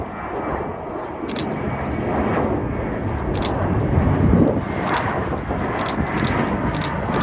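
A Spirit Airlines Airbus A321 at Chicago O'Hare gives off a steady, loud engine roar that swells and holds throughout, with scattered sharp crackles and clicks on top and no clear speech.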